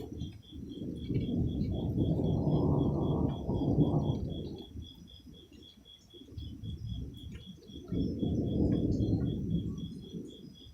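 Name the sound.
thunder during an electrical storm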